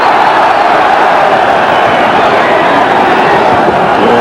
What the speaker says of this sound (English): You'll hear this British crowd roar with every exchange